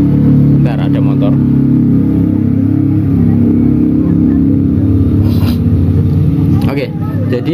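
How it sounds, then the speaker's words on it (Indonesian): A motorbike passes by outside, its engine rising and droning continuously at moderate distance, mixed with indoor noise. "Bentar, ada motor."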